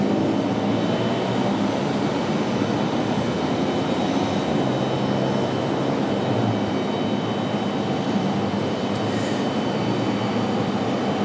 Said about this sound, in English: Another CRJ pushback here just below us.